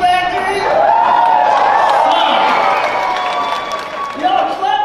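A stand-up comedy audience claps and whoops in a loud burst, with talk running over it and the cheering swelling and fading across a few seconds.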